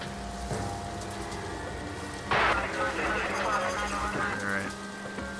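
Steady rain falls in L.A. Noire during a drive up a dirt road, a continuous wash of drops under game ambience, with a louder splashing burst partway through and a voice talking over it.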